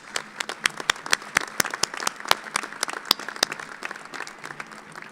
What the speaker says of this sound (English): So, graduates, please join me in giving your loved ones a well-deserved round of applause.